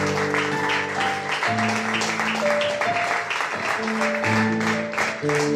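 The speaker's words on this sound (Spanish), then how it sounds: "Dale un aplauso al Señor en esta mañana." A church congregation claps together during a Sunday morning service, a dense steady wash of applause that continues under music with sustained organ-like tones.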